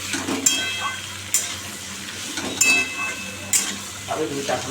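Pumpkin fritters and bok flower fritters fry in hot oil with a steady low sizzle, broken by a few sharp utensil clinks and stirring scrapes at irregular intervals.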